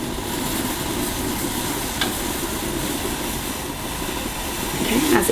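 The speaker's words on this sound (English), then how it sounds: "this is beginning to come to a rolling boil" Chai tea with masala spice comes to a rolling boil in a pot, giving a steady bubbling, hissing rush throughout that swells slightly near the end.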